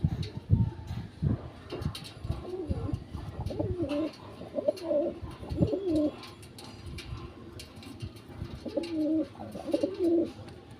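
Pigeons, male and female birds on sale, cooing in repeated low throaty phrases close by, with soft rustling and shuffling between calls and a faint voice in the background.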